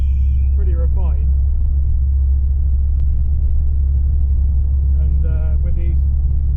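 A Land Rover 90 on Hankook 255-wide tyres cruising along a road, a loud, steady low engine and road rumble throughout, with someone speaking briefly over it twice.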